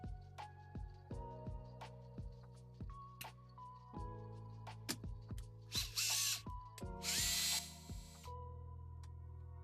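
A power drill revs in short bursts, with whirring spin-ups and pauses, close by, followed by a louder grinding push near the end as it drives through a block during a 3D printer build.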